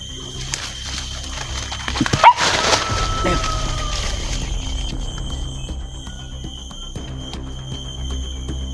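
A dog barks a few times in the distance, a brief burst of yips against a steady outdoor hum.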